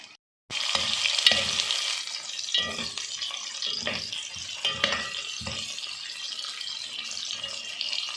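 Onions fry in a little oil in a pan for sarson ka saag, giving a steady, moderate sizzle with bursts of stirring. The sizzle starts suddenly after a brief silent moment, and no one speaks.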